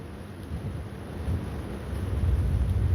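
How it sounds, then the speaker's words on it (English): Distant thunder rumbling during the rainy season in Da Nang, Vietnam, a low, steady outdoor rumble swelling slightly toward the end amid wind noise, with no talking. "Can you guys hear that thunder?"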